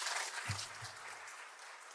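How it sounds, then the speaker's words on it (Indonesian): At a government ceremony, soft, distant applause from an audience fills the room as a steady hiss of many claps, with a low thump partway through. "Tepuk tangan untuk beliau."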